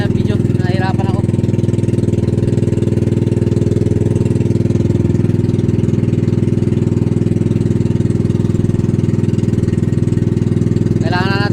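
A small boat engine runs loud and close with a rough, uneven idle and spluttering beats, steady throughout, with brief voices at the start and end.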